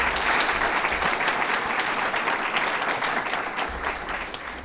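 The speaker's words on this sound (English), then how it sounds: "Round of applause would be okay." An audience at a school board meeting applauds to welcome a new elementary school principal, with sustained, even clapping from many people that fades slightly at the end.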